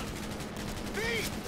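Cyberpunk 2077 gunfire crackles in a dense, continuous fusillade under a wash of game noise, with a brief whistling tone near the end.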